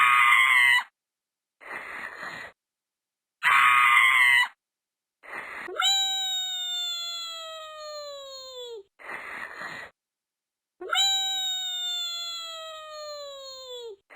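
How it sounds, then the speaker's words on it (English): A cartoon character in a Flash video game lets out long, loud descending screams, two of them, alternating with short bursts of squeaky gibberish noises separated by silent gaps. "If you don't hold the button, he screams his lungs out."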